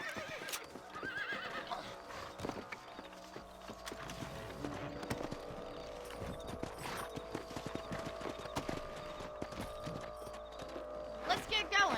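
Horses clip-clop at a trot across open ground in the Red Dead Redemption video game, hooves beating a quick uneven rhythm, with a whinny, scattered game sounds and someone talking over them.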